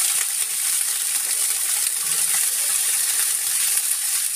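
Onion, garlic and string beans sautéing in a pan for adobong sitaw, a steady bright hissing sizzle that holds evenly throughout, close and alone with no talk.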